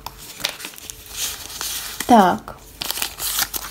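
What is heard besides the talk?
handling and opening a paper packet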